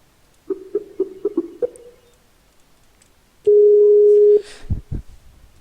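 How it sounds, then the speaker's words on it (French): A phone call is being placed, heard as a few short beeping tones followed by a long steady ringback tone and then a couple of low thumps. "Je t'appelle dans ce cas, Creepy."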